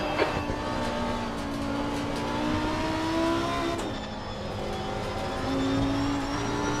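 Lamborghini Huracan EVO2 GT3 race car engine from Assetto Corsa Competizione at Spa, a continuous moderately loud drone that rises in pitch and drops sharply at a gear change before climbing again.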